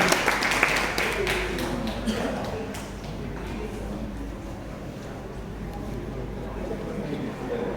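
A dealership opening audience claps in a brief burst at the start, the dense clapping thinning and fading within a few seconds into a low murmur of room noise.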